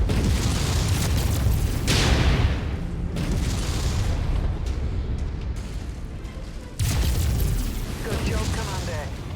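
Comm station destroyed in the video game Mechwarrior 5, with heavy booming explosions and rumbling blasts, a strong burst near the start and another sudden loud blast later, under occasional voices.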